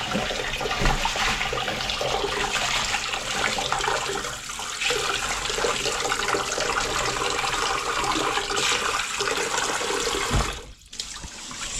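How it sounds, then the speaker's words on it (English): Running water pours steadily and loudly over small beans being washed for githeri, a continuous splashing rush that briefly cuts out and resumes near the end. "So these are the beans I'm gonna wash them."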